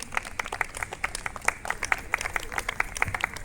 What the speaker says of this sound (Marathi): मंडळी, टाळ्या थांबवू नका